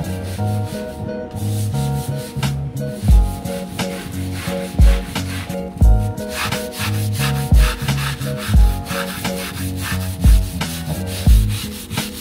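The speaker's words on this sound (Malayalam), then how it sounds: "അപ്പം ഞാനിതിൽ വളരെ കുറച്ച് ഡ്രോപ്സ് എടുത്തിട്ട് വെള്ളം മിക്സ് ചെയ്തിട്ട് ജസ്റ്റ് ഉരച്ച് കഴുകാൻ പോവാണ്" A brush scrubs a surface with water mixed with a few drops of soap during a house deep clean using natural products, making rhythmic back-and-forth rasping strokes about once a second, close and loud, with no talking.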